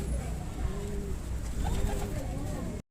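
Soft repeated coos from nearby Madrasi pigeons, three of them Kalanka hens, roll on in low throaty bursts for a few seconds against a light ambient hum before ending sharply.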